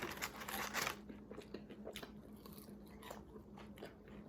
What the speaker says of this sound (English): I'm gonna eat on this sandwich